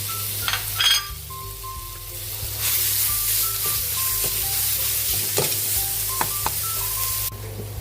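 Ground pork frying with tomatoes in a pan, a loud close sizzle with stirring scrapes and occasional clinks of utensil against the pan, no talking.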